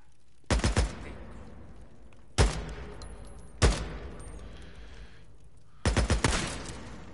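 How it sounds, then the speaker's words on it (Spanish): Several sharp bursts of gunfire in a zombie video game, some single shots and some quick rapid volleys, separated by quiet gaps, loud and close. "Acaba de escuchar disparos."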